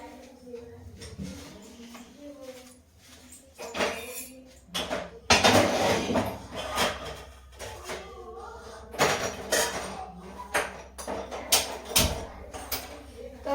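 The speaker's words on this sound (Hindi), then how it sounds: "पहले मैं सब्जी फटाफट सब्जी छौंक लेती हूँ।" Clattering pots and a pan being handled while vegetables are stir-fried, with scraping and knocks of a spoon against metal while someone talks nearby.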